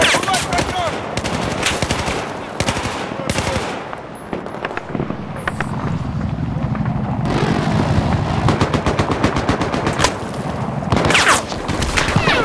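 Rapid machine-gun bursts and gunshots echo through a Battlefield 4 combat mission in Baku, dense and continuous across the clip, with booming impacts mixed in and a few spoken voices underneath.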